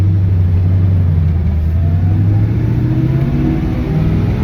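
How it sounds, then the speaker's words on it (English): A 1950 Ford F-1 truck accelerating through the gears, a loud close engine drone rising steadily in pitch as it revs up, heard from the cab with no talking. "First gear, up to second, going 30 miles an hour."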